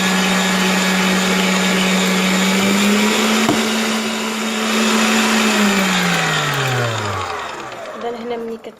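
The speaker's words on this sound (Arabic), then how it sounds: "المره الاولى غادي نطربوه بالطراب سواء يدوي او كهربائي" Electric mixer beating brioche dough, a loud steady motor whine that holds its pitch, rises slightly, then winds down as the beaters slow and stop, with a voice speaking over it.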